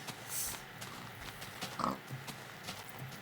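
Pig in Minecraft giving a few short grunting oinks at moderate distance amid faint background noise.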